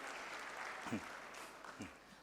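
An audience claps after a presentation at an Indonesian talk event, a short burst of steady applause with a brief voice-like sound partway through.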